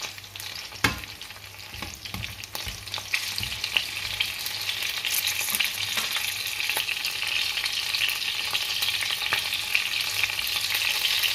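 Tomatoes sizzle in a pan with ground beef, a steady crackling fry with occasional sharp stirring knocks, fairly quiet and with no talking.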